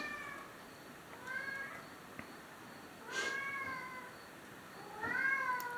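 A cat meows three separate times at moderate distance, each call a short drawn-out wail with gaps of quiet room tone between, and no talking.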